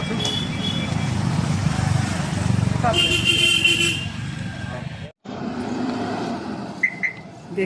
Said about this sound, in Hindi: और कितने स्पीड में बाइकरों की तो कमी नहीं है